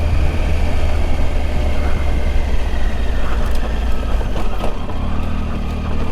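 A Triumph Tiger motorcycle's engine drones steadily and close while riding a rocky forest trail in Mendocino National Forest, with a dense low rumble and faint knocks from the terrain.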